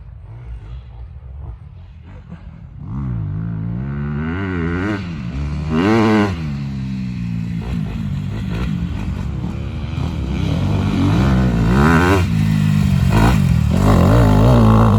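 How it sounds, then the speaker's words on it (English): A 250cc motocross dirt bike ridden fast on a dirt track, its engine revving hard in rising and falling bursts as it approaches and blasts past, loud and close, with brief voices in the background. "Now Brandon's riding my bike, so I'll try and get some clips with him."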